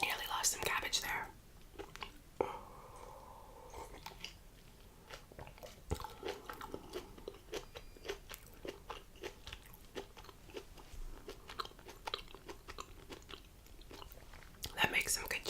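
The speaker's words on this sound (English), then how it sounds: "That makes some good chewing sounds." Close, quiet chewing and crunching of noodle soup with cabbage, wet bites and soft crackles repeating under intermittent whispered talk.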